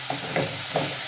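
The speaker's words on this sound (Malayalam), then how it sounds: "ഈ കോവയ്ക്ക് അത്യാവശ്യം നന്നായിട്ട് തന്നെ ഒന്ന് വഴന്ന് വരട്ടെ." Ivy gourd (kovakka) sautéing in a hot pan, a steady close sizzle with soft scrapes of stirring.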